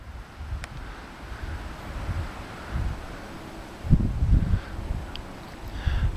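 Wind gusting around a small wind turbine among fir trees, a steady low rushing roar with stronger buffeting gusts hitting the microphone, and no voices.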